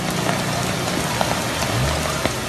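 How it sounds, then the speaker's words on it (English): Heavy rain pours steadily onto flooded city streets, a continuous, dense hiss of drops on water and pavement heard up close without pause. "the heavy rain continues to hit one of the more prone spots in the city."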